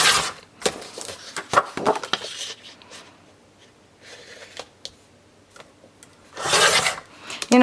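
Scrap paper being trimmed down for a 6x6 mini album page, giving bursts of dry rasping cuts that come in quick repeated strokes, then a pause and a longer, louder final stretch, close and alone.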